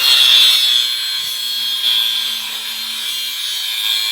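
Wood boards being sawn by hand, a loud, close, continuous rasping stroke sound with slight pulsing from the back-and-forth motion, no talking.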